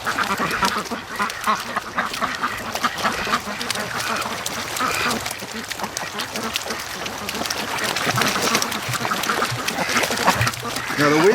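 A flock of Muscovy ducks near their pen on a snowy, windy morning makes continuous raspy quacking and chatter, with a person talking over the birds.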